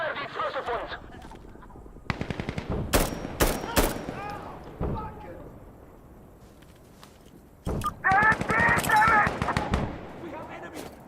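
Bursts of gunfire from explosive rounds in the shooter game Insurgency Sandstorm, several loud sharp volleys spread across the stretch with gaps between, mixed with game voice chatter and radio-like speech.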